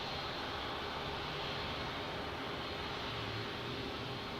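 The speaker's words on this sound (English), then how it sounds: "British Airways crossing the runway." British Airways airliner crossing the runway at San Diego airport, a steady, broadband jet engine roar and rumble held at constant level throughout, distant and continuous with no voices.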